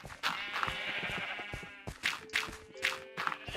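Sheep in the Minecraft video game bleat repeatedly from inside a crowded pen, with several short, overlapping calls close by, some wavering and drawn out, and no speech.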